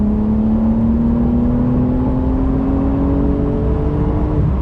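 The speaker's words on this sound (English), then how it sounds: "That flat 6, you can clearly hear from at the back of the car, really just a unique sound" A 2020 Porsche 911 Carrera S flat-six rolls on in fourth gear, a loud, continuous engine note climbing smoothly in pitch throughout, heard from inside the car with no talking.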